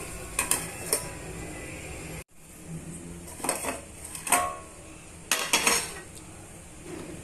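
Metal clinks and clatters sound as a lid is set on a cooking pot of broad bean stir-fry, several sharp close knocks spaced apart, with a sudden brief drop in the background partway.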